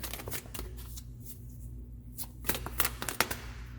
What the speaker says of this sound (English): Let me grab one more card.